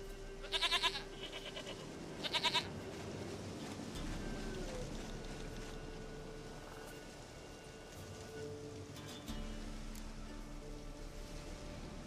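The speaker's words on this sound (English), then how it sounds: "Goat of mine, dearest, sweetest goat." Goat bleating in The Witcher 3: Wild Hunt, two short, distinct bleats close together near the start over a faint bed of rain and quiet ambient game sound.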